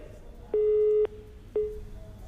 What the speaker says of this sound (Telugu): ఫోన్ కట్ అయినట్టుంది